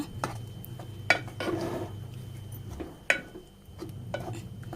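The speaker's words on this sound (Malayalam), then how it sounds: "നല്ല പോലെ ഇത് മിക്സ് ചെയ്ത് കൊടുക്കുക" A spoon stirs and mixes ground coconut paste into erissery in a pot, soft scraping with a few sharp clinks against the metal, quiet and close, no talking.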